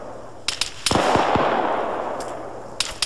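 Video game gunfire: a few sharp, close shots and bursts with a loud blast and rumbling tail, set against steady background noise.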